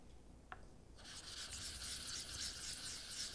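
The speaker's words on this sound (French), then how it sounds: "on passe la lame sur un genre de craie en fait" Straight razor blade stroked across a Naniwa 1000 whetstone, a soft, steady, faint scraping rub that begins after a brief tap and continues evenly.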